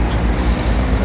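Porsche sports car exhaust on a Lisbon city street, a loud continuous rumbling roar up close with dense low-end throb and no clear pops standing apart.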